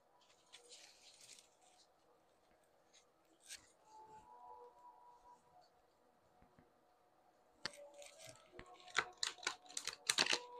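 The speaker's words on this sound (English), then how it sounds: "Give this a nice little shuffle." Tarot cards from a Wild Unknown Alchemy deck shuffled by hand, a soft papery riffle near the start, then a quieter stretch, then louder quick repeated flicks and snaps building toward the end.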